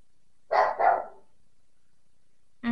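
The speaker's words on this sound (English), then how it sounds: "And that's my dog barking." A dog barks twice in quick succession nearby, loud and clear in a quiet room, followed by silence and a brief further sound at the very end.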